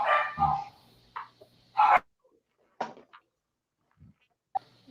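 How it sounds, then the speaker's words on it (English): Two dogs bark in sharp, loud bursts nearby, a few separate woofs and yips broken by short quiet gaps indoors. "Who's got the dogs?"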